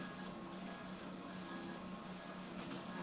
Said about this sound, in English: And then our DTF printer printing out.